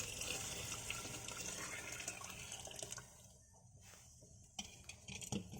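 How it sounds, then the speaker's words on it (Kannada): Hot water pours steadily into hotel-style sambar in a pot, a faint continuous gush that thins into a quieter trickle and a few splashes. "ನಾನಿಲ್ಲಿ ಸಾರಿಗೆ ಬಿಸಿ ನೀರನ್ನು ಹಾಕ್ಕೋತಾ ಇದ್ದೀನಿ."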